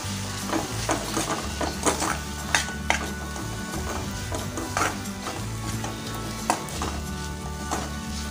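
Finely grated jaggery melting in a pan while being stirred, with continuous sizzling and repeated scraping, clattering strokes of a utensil against the pan, close and fairly loud, no talking.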